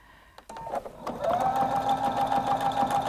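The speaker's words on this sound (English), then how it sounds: "make sure that I'm lined up so that when it starts sewing, it's going to go backwards first" A Husqvarna Viking Designer Brilliance 80 sewing machine stitches a buttonhole. After a few clicks it starts up and settles into a steady, fast, humming motor run with a rapid needle patter, close and fairly quiet.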